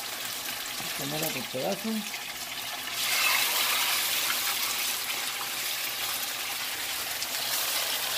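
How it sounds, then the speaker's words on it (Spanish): Pieces of seasoned meat sizzling in a pan, a steady hiss of frying that swells after a brief spoken remark and then continues evenly in the background. "Y ahí la vamos a dejar que se fría."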